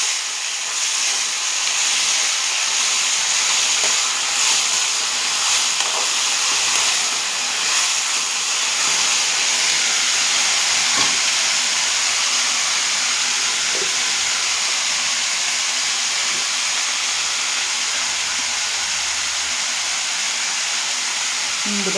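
Boiled broad bean pieces stir-frying in a hot pan for a quick bean fry, giving a steady, loud hiss and sizzle that runs throughout with faint scraping stirs.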